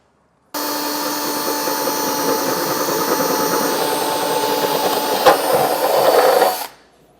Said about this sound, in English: So we're going to drill these out to 5/8 diameter.